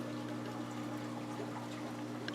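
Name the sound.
pouring hydrogen peroxide into a bottle lid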